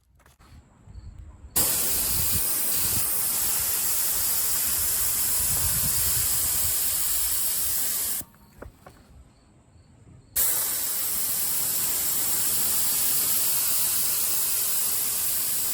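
An HVLP paint sprayer spraying water-thinned paint onto an outdoor canopy hisses loudly in long steady bursts, stopping briefly in the middle before starting again, close by with no talking.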